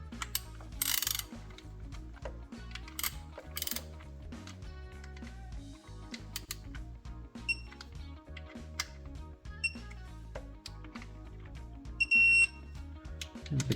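A ratchet tightens the oil pan bolts on a ZF 6HP28X automatic transmission in a BMW 330xd E92, giving steady close mechanical clicking and ratcheting with a few sharp metallic chinks and no talking.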